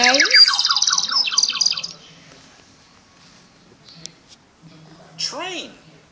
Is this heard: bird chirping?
yes